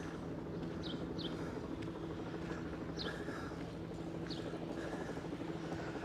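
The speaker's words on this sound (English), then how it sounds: "George Hahn of Instagram does not like the helicopters." Helicopters on doors-off tours fly over Central Park, a steady distant rotor drone filling the scene with continuous low noise while a few bird chirps sound faintly above it.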